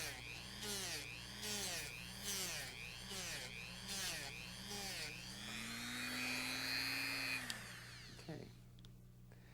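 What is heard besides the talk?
buffing a soldered eyewear frame with compound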